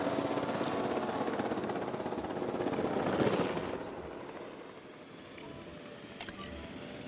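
A helicopter in the video game Jurassic World Evolution 2 whirs with a steady, loud rotor thrum that swells and then eases, with faint clicks and chimes over it.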